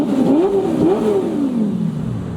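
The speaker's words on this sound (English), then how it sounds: "Should I rev it for the officer?" An Audi R8 engine revs up and falls back in a loud, close sweep, the pitch climbing, dipping and rising again before easing down over a couple of seconds with no talk.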